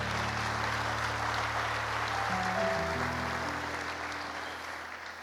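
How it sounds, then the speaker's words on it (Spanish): A church congregation claps for the Lord during a Spanish-language worship service: a steady wash of applause over sustained musical tones that shift midway, fading slightly toward the end. "Dale un fuerte aplauso al Señor."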